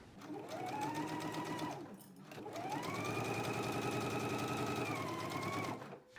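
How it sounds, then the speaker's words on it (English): A sewing machine runs a basting stitch along a pant pocket in two long, steady bursts of rapid mechanical whirring and needle clatter, briefly pausing in between and stopping at the end, close and alone. "Let's go ahead and do a basting stitch now to keep the pocket going toward the front."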